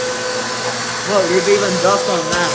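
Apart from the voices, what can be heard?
vacuum cleaner motor running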